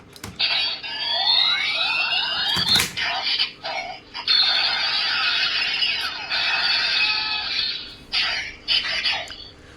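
Electronic toy sound effects from a DX Kabuto Zector transformation toy being put on: rising and falling synthetic tones and chimes play in bursts, with a couple of sharp clicks between them.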